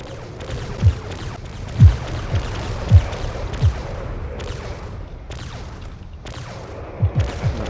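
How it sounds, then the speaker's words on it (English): Cannons on a crashed battleship firing in the Drone Wars video game, a desert setting, several deep booms spaced irregularly, some in quick pairs, over a rumbling background, no talk. "I'm surprised there are still some active cannons on this."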